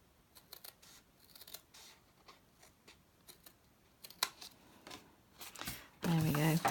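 Scissors snip paper for Christmas gift tags, a series of small irregular cutting clicks and crisp slices, close and quiet, ending in a louder rustle with a voice starting to speak.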